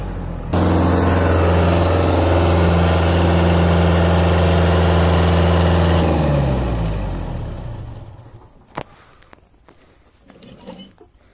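Kubota tractor working a harrow in a field, its diesel engine running loud and steady at close range, then winding down and fading to quiet, with a few faint knocks near the end.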